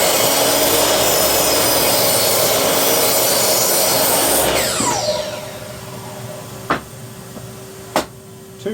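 Hand saw cutting through an untreated Douglas fir board, a steady rasping stroke that runs loud and continuous, then eases into quieter scraping with a couple of sharp knocks near the end.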